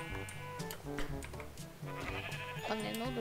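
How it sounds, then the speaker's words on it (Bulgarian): Sheep in the Minecraft video game bleat repeatedly, wavering tonal cries layered over game sounds and light background music, fairly close and frequent throughout. "Охо, овцата Майя."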